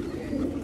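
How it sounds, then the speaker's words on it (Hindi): Pet pigeons of the madrasi breed coo in a steady low murmur, a continuous close flock sound with no pauses. "आधे से ज़्यादा कबूतर जा सकते हैं अंदर"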